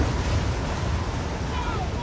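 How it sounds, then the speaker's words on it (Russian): Waves beating against a boat on open water in a headwind, a dense continuous rush of surf and wind noise, loud and close, with no distinct breaks. "Ее били волны, так как дул встречный ветер."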